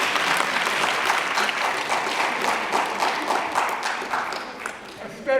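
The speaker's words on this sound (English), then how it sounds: "That one gets applause." A lecture audience breaks into loud, sustained applause with dense clapping and some crowd noise, tapering slightly before a voice cuts in at the end.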